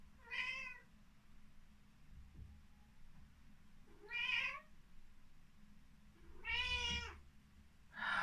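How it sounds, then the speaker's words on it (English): A cat meows three separate times, each a clear, close, drawn-out call with long pauses between, over a low steady indoor hum. "This cat."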